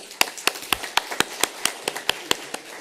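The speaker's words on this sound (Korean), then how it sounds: "우리 박수로 환영하겠습니다" A church congregation at a Sunday worship service claps in welcome, about a dozen sharp, evenly spaced hand claps with a steady rhythm, fairly close and moderately loud, with no talking over them.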